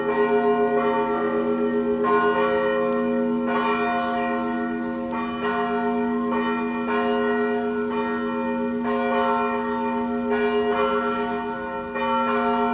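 Church bells peal continuously, rich ringing tones overlapping in a steady rhythm with a sustained hum beneath, fairly loud and unbroken by voices.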